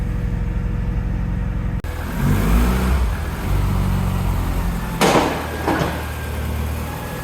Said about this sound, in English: Engine sounds good with no variator rattle